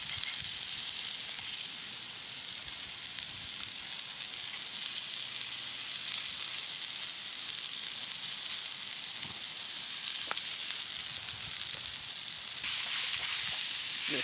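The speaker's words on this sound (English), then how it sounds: "Got these burgers, we'll whack them straight in. Oh, that sizzle." Steady, loud sizzling of burgers frying in a hot pan at a campsite, a continuous crackling hiss with a few sharper pops.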